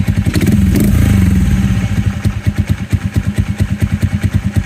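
A small motorcycle engine fitted with a cheap copy PD carburetor, heard close and loud, revving briefly before settling into a steady, even thumping idle.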